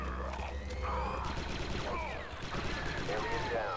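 Gunfire in the Star Wars: Republic Commando video game, dense bursts of rapid shots rattling close and continuous over a busy battle background, with a voice talking over it.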